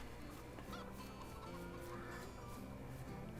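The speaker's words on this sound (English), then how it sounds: "Got our chickens going here." Chickens in Farming Simulator 22 cluck and squawk in a busy, continuous din, several birds calling over a dense background hum.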